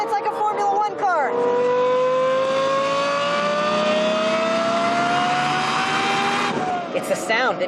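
Lexus LFA V10 engine, its sound developed with Yamaha, revving hard and loud with a rising high-pitched wail that climbs steadily for several seconds before dropping off, with talk faintly underneath.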